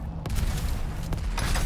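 Rocket fire and explosions in the arena shooter Diabotical during a competitive duel roll out as a dense, continuous barrage of booms and blasts, with sharp bursts cutting through a heavy low rumble.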